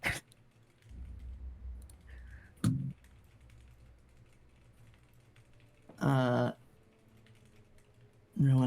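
Keys on a computer keyboard click faintly and intermittently in a quiet room, with a few short, louder bursts of voice breaking in.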